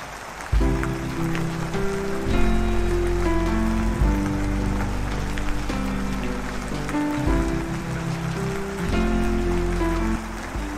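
Heavy monsoon rain pours steadily in Goa near the beach, a dense continuous hiss of falling water, though a loud tonal musical bed runs under it throughout.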